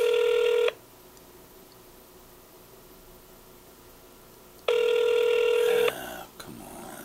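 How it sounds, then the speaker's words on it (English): A telephone ringback tone sounds while waiting for someone to answer a call, giving two long steady electronic rings separated by about four seconds of near silence, with faint background noise after the second ring. "Ah, come on. Answer the phone."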